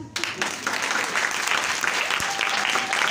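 A congregation applauds at a church sermon, a steady, dense wash of clapping from a crowd that carries on through the whole stretch without pause.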